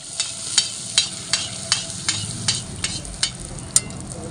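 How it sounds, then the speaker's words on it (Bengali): Fuchka shells fry in hot oil in a wok while being stirred, with a low bubbling sizzle under a steady rhythm of about ten sharp scraping strokes, close and fairly loud. "তাই আমি একটা দুটো করে ফুচকা তেলের মধ্যে দিচ্ছি আর নাড়ছি।"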